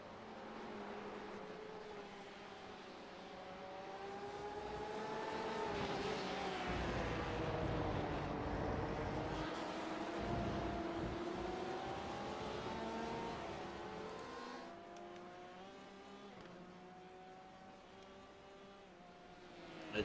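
GTE race cars at Circuit of the Americas in a racing video game, engine notes rising and falling as the cars accelerate and pass, whining harmonics swelling loud midway then fading, without talk.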